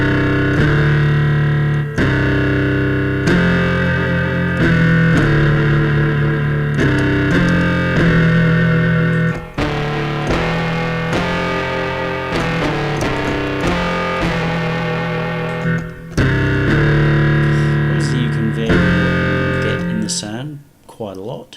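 A synthesized metal guitar line built from synths in Reason, heavily distorted with a subtle resonator and generous reverb, plays loud chugging chords and riffs without pause.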